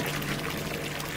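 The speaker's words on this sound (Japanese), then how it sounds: "ここら辺から水を汲んでみよう。" Water is scooped from a river and splashes steadily in a continuous, moderately loud gush for about a second, with no voices.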